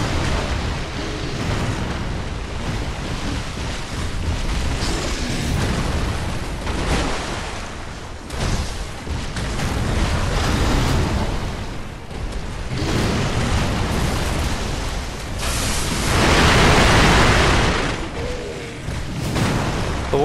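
Bursts and booms of firecrackers going off during a Sekiro: Shadows Die Twice boss fight against the Guardian Ape, dense and loud over a roaring game soundscape with several heavier blasts.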